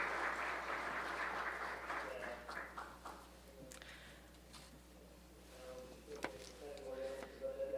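An audience at a regional security summit applauds a municipal government figure; the clapping starts fairly strong, then fades and thins into scattered claps while voices murmur and speak underneath.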